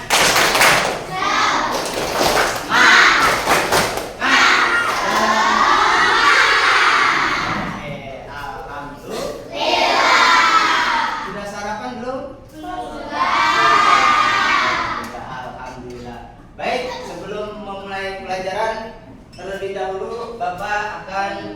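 Students in a classroom at morning Ramadan lessons do a spirit clap, with loud bursts of rhythmic clapping and shouted chanting from the group in several waves, close and energetic.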